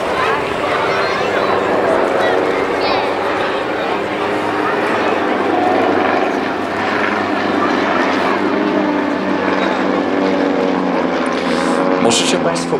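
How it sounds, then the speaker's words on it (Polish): Several propeller aircraft engines droning together during a formation flight at the Mielec air show, a loud, sustained, slightly uneven roar with shifting pitch as throttles change, continuous from start to finish. "Możecie państwo usłyszeć gang silników, jak te silniki różnie pracują."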